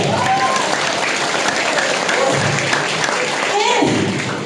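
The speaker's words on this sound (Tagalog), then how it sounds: "Kaya naman palakpak nyo" A crowd applauding at a testimonial event, with loud, dense clapping that runs without a break while voices cheer and call out over it.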